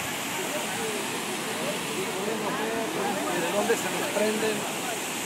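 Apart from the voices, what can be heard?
waterfall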